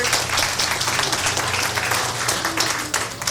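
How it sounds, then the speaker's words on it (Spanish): Guests at a 50th birthday celebration applaud a birthday message, a burst of close, dense clapping with a few voices beneath it, filling the whole moment. "aplausos por el mensaje"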